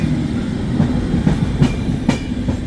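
Express train rolling along the rails, a close, loud rumble with rhythmic clickety-clack wheel beats repeating every half second or so.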